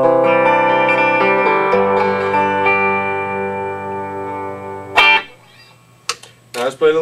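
A Tom Anderson Atom electric guitar with its tone pot pulled out rings through sustained, layered chords for about five seconds, then a brief strum and a few short picked notes follow amid near silence.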